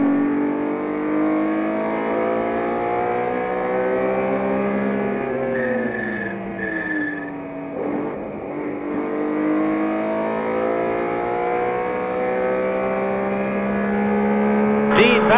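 Historic race cars, including a 1978 BMW M1 ProCar, running together in a Bonhams Cup race, engines droning loudly with rising and falling revs as they accelerate and shift, one strong engine note dominating throughout.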